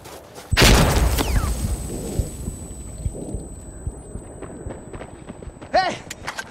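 Frag grenade explosion in the Insurgency Sandstorm video game, a sharp loud blast early on followed by rumbling debris and scattered gunfire, with voices shouting in the battle.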